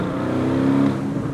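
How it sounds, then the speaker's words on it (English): Aston Martin DB11 Volante V8 convertible driven roof down in sport mode, its exhaust note a deep, throaty engine drone that swells briefly as the revs climb, close and steady with no voices. "Then you're getting so much more of the exhaust note coming through"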